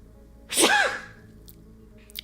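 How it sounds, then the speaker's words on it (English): A single loud, close sneeze bursts out on its own, with a quick sharp onset and a short fade, in a quiet room during a live gaming news show. "Excuse me while I sneeze."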